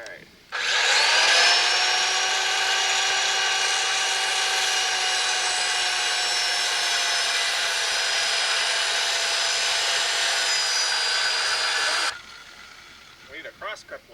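A power saw with a worn blade cuts steadily through wood for a cabin pier, one long continuous whine lasting about eleven seconds before stopping, followed by faint voices.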